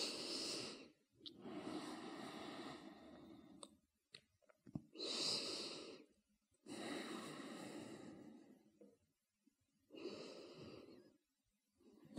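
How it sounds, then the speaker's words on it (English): Slow, deep breaths drawn in and out during a yoga session, each breath a soft, close, airy rush lasting a second or two, separated by quiet pauses. "Start to slow down your breath even more."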